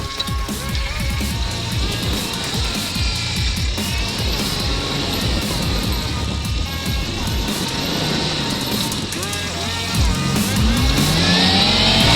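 A Chevrolet S10 pickup drives in 4-wheel drive through winter terrain, its engine droning and straining continuously, close and loud, over a rough rumbling of tyres and chassis that swells toward the end.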